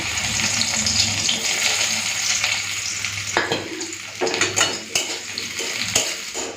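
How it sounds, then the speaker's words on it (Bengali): Onion and crushed garlic fry in mustard oil with dried red chilli, a bright, steady sizzle broken by spatula scrapes and metal clinks against the pan. "পেঁয়াজটা ভাজা ভাজা হয়ে গেছে"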